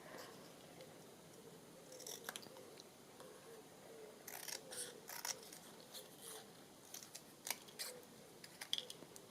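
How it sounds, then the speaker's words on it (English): Scissors snip down an oversized paper journal card, giving a series of quiet, close crisp cuts in irregular bursts, some quick and clustered, over a hushed room. "Need to cut it down quite a bit,"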